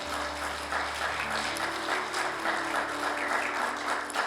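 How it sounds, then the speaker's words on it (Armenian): A church congregation gives loud, sustained applause, a dense, even patter of many hands clapping throughout, with a low steady tone beneath. "Տուր Տիրոջը բարձր ծափահարություն։"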